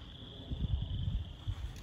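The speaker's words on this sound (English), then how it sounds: "Really hear the frogs." Frogs calling at a park pond in March, a faint, steady, high-pitched trilling chorus heard from a distance, continuous and soft, with low rustling noise underneath.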